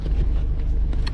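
A 1998 Mercedes-Benz SLK 230 engine idles with a steady, low, close rumble, alone and without talk.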